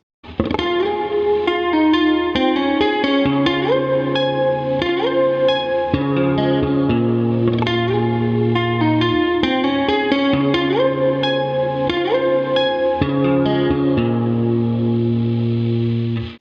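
Three layered electric guitar tracks play a looping, chiming Midwest emo pattern together, drenched in chorus and reverb, steady and loud without any voices.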